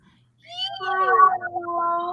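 A cat gives a clear, drawn-out meow that rises and wavers for about two seconds, close and fairly loud, heard alone in a quiet room.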